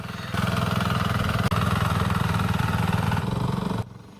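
A small diesel-powered plaster finishing machine, used for floor finishing, runs with a steady, loud mechanical chug. It holds an even rhythm for several seconds, then cuts off abruptly near the end. No voices are heard.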